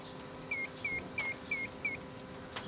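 Fast clicking of a turn signal relay hyper flashing on a vehicle fitted with LED turn signals, five quick, evenly spaced clicks close by and fairly faint.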